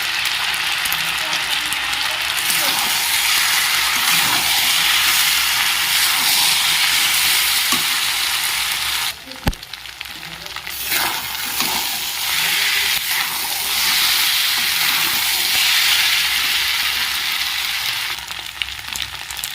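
Boiled pasta fries in a hot pan with a loud, continuous sizzle and stirring scrapes, close up; the hiss briefly drops away midway with a sharp knock before resuming just as strongly.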